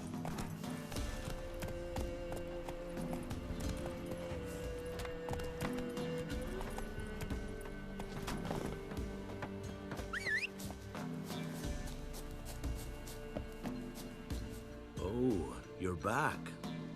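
Geralt's horse Roach in The Witcher 3 on Death March difficulty, hooves clip-clopping in a steady run under a music score, with a brief whinny or squeak near the end.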